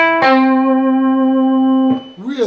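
Electric guitar blues lick in the style of a song, bending from 7 on the third string to 5 on the second, then held with vibrato; one clear sustained note rings alone, then a brief second phrase slides in.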